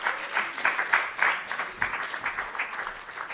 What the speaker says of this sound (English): Please give him a wonderful round of applause.